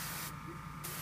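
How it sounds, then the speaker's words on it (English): An airbrush sprays paint onto a model held on a cork mount, giving a steady, soft, close hiss that runs for about a second with no voices. "The nice thing about the airbrush is you can just kind of go to every angle"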